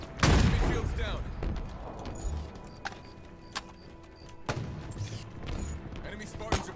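Sharp gunshots crack intermittently in Halo Infinite, scattered across a busy battle mix with a loud burst at the start and a player talking over it.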